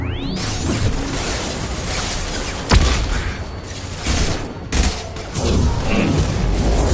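Mass Effect 2 combat with flashbang explosions and gunfire, a dense, loud, continuous roar of weapon fire broken by sharp booming blasts and whooshes, with no talking over it.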